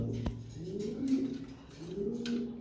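A male pigeon coos softly at close range in low, rolling calls, with one sharp tap near the start.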